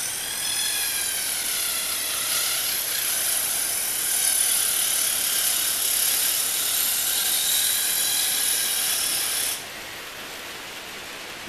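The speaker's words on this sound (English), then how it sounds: "One advantage of using this Dremel slitting saw in the Fordham tool is you can really slow it down." A Dremel slitting saw spins in a Foredom rotary tool at slowed speed, giving a steady, loud high-pitched whine with wavering tones for about nine seconds before the cut ends and the pitch drops.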